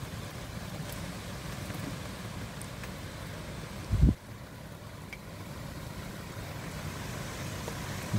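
Strong typhoon wind roars steadily through trees in the Philippines, a continuous low rushing that sweeps on without a break, with one brief louder gust or knock about midway.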